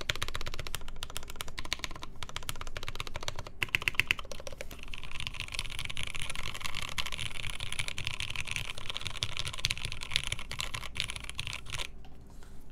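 Rapid clacking of a Matrix Lab 8XV2.2 mechanical keyboard with PBT keycaps being typed on continuously, with crisp close keystrokes and a few louder taps.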